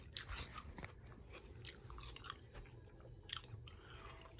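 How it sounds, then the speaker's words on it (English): A big bite of watermelon followed by wet, crunchy chewing, close and quiet, with soft irregular bursts of munching and no talking. "I took a big old bite out of that watermelon"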